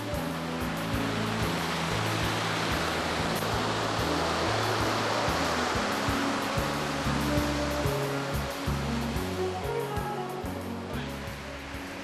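Ocean surf at Jaco beach, Costa Rica, where surfers ride the waves: a loud, continuous roar of breaking waves and rushing foam fills the whole stretch, steady and near, with no voices.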